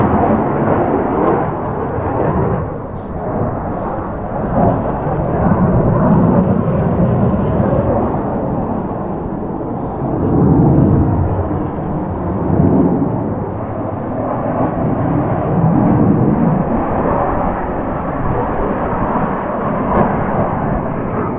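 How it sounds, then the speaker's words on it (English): A steady, loud engine roar with rumbling low-end throbs, like a helicopter passing overhead, continuous for the whole stretch with no talking. "I've got a helicopter about to fly over, so you have to bear with me on sound"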